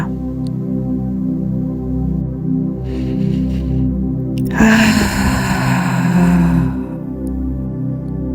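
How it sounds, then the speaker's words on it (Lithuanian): A loud, forceful breath bursts in for about two seconds over a steady droning music bed, then fades back into the drone. "Jūs kvėpuojate garsiai. Jūs kvėpuojate kaip laukinė."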